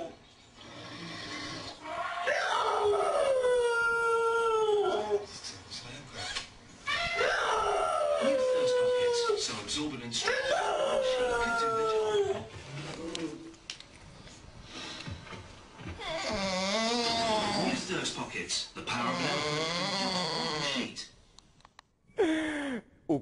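A dog that seems to think it is an elephant gives a series of long, wavering howls, four or five drawn-out cries with short pauses between them, loud and close.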